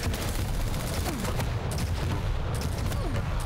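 Rocket blasts from a Quake Champions match, a dense, continuous barrage of booming explosions and shots packed together with no pauses, loud and close throughout.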